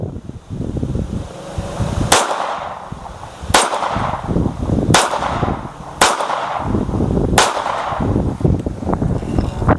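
A compensated Sig P365X Macro pistol fires at a range, five sharp, loud shots spaced roughly a second and a half apart. Between shots there is a rumbling, windy outdoor background.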